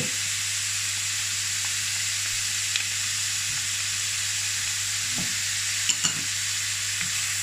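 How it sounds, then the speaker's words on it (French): Broccoli and garlic sautéing in a wok with beef noodles, a steady loud sizzle and hiss throughout, with occasional soft clicks of stirring, close and continuous, no talking. "Faites revenir tout ça."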